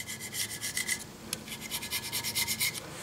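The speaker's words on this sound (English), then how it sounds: "Need a little bit of light sanding." Light hand sanding of corroded metal on a South Bend shaper, a quick run of rhythmic scratchy strokes, close and fairly soft, with a brief pause near the middle and no talk.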